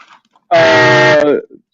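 A single loud, blaring train-style horn blast lasts under a second, with a steady tone, abrupt onset and brief tail, surrounded by near silence.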